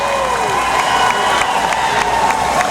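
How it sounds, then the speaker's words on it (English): Fans cheer and applaud as athletes walk in at the opening ceremonies of the 2009 National Veterans Wheelchair Games, a continuous roar of crowd noise with whistles and scattered shouts. "that's who all these fans, well, at least most of them, are cheering on today."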